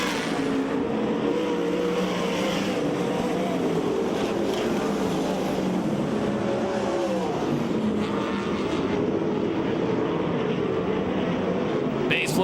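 USAC/CRA sprint car engines roar around the Perris, California track, a loud sustained drone that swells and fades as cars pass, with crowd and announcer-style talk underneath.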